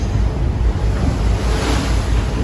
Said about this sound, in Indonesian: Anginnya kencang juga.